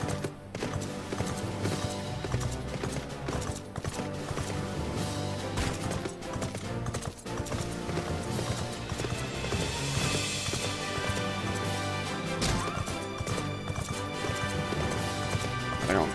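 Horse hooves clip-clop steadily at a run in Final Fantasy XIV, a continuous rhythmic gait pressed under dense, loud game music and effects for the whole stretch, with an occasional faint whinny.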